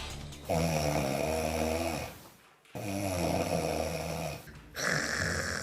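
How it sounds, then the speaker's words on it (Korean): Heavy, rumbling snoring from a sleeping person, with two long, loud inhaling snores separated by brief quiet breaths, heard close and alone. "본인도 괴롭고 옆 사람은 더 괴로운 코골이"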